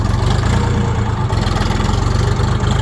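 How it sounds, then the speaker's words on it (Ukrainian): Tractor engine running loud and close with a steady low throbbing chug, a continuous rumbling idle that lifts slightly under throttle, no voices. "Трохи газу треба дати."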